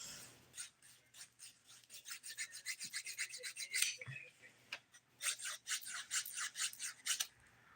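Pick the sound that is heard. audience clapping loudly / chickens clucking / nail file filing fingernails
nail file filing fingernails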